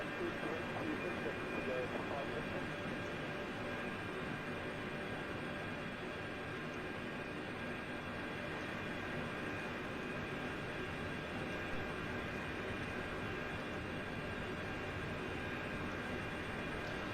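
Aircraft engines in a flight simulator game, cruising over Scotland, give off a steady, continuous drone that holds even and unbroken throughout, with quiet speech faintly under the hum.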